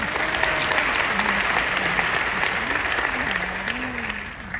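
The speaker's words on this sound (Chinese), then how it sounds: "这再给他们一个掌声" Sustained applause from an audience at a stage event, steady dense clapping throughout with a faint voice underneath.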